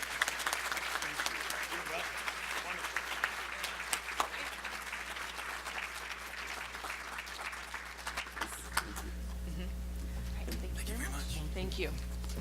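Audience applause for award winners at a 2019 State of the Workforce event, steady broadband clapping through most of the stretch, then fading into a room hum with low tonal rumble near the end.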